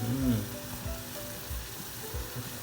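Pork sizzling as it goes into a pan of water set for a Thai mookata hotpot, a soft steady crackle close by with low bubbling and stirring underneath, while a voice talks quietly.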